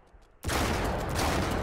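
Gunfire in Uncharted 3 erupts suddenly after a brief quiet moment, a loud, continuous volley of rapid shots that stays dense and close to the end, with no talking.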